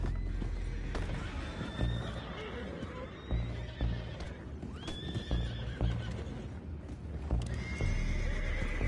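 Horses neigh and whinny with clip-clopping hooves in the Red Dead Redemption 2 video game, several whinnies rising over a busy, continuous outdoor game soundscape.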